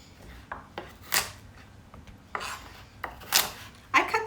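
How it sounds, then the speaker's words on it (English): A kitchen knife slices through a carrot on a cutting board in a cooking class, giving a few sharp, irregular chops and scrapes, close and fairly faint, with pauses between cuts. "So here's our carrot. We cut the end off."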